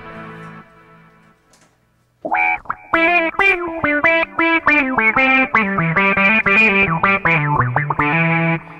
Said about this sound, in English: So there's an auto wah sound.